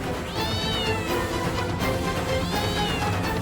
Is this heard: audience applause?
no